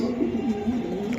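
A male white racer pigeon coos softly in low, rolling throbs, close and steady, with no talk over it.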